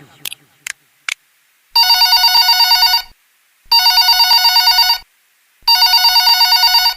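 A telephone rings in three long trilling bursts separated by pauses, loud and close, after a few brief sharp clicks.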